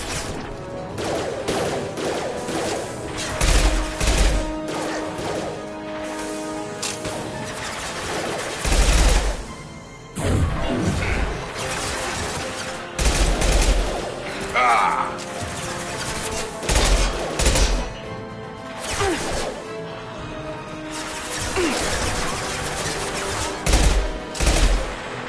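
Sustained gunfire and explosive impacts in Mass Effect 2 come in loud clustered volleys, with heavy thuds and crashes between bursts across a long firefight.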